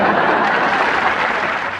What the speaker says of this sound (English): We need to say our finishing line with an applauding audience while somebody shrugs to a freeze frame.